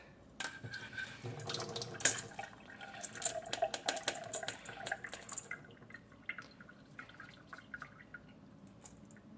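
Water from freshly dyed blue rice pours and drips through a strainer, a close, irregular run of splashes and trickles that thins out toward the end.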